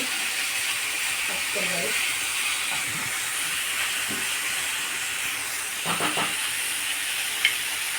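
Ridge gourd chutney ingredients fry in a pan under a steady hiss, with scattered scrapes and clinks as they are stirred and a voice speaking briefly over the sizzle.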